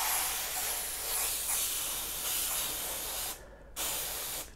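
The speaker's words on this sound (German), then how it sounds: "ich sprühe jetzt das da ein" A spray can hisses steadily close by as it coats model railway tracks, with a brief pause before a second burst of spraying.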